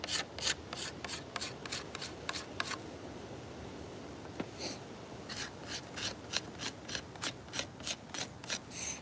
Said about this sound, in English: before I scrape too much wood off, we'll do another tiller check